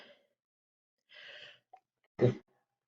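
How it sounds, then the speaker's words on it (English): A single short sneeze, sudden and close, after a couple of faint breathy intakes in otherwise quiet surroundings. "I gotta sneeze."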